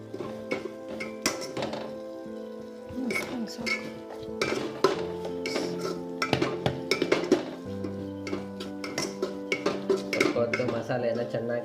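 A spatula clinks and scrapes against a pan while masala spices, including coriander powder and turmeric, are stirred and fried for chicken fried rice. There are repeated metallic taps at an uneven rhythm, with background tones and occasional voices.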